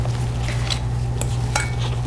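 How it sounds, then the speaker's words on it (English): Dry cookie ingredients such as flour, ginger, baking powder and baking soda being stirred in a bowl, soft scraping clinks of a utensil against the bowl at a few irregular moments over a low steady hum. "And we just mix everything good together."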